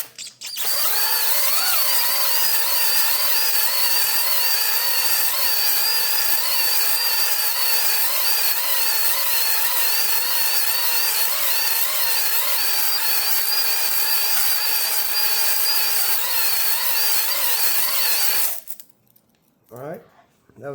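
A power drill spins a hone inside an engine cylinder in continuous up-and-down crosshatch strokes, a loud, steady whine with a wavering pitch that runs close for about eighteen seconds before stopping abruptly.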